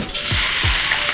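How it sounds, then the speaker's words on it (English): Fatty beef sizzles and fries in a hot pan, a loud, dense crackling hiss up close with a couple of brief stirring scrapes. "I want to hear that beef as soon as it hits the pan."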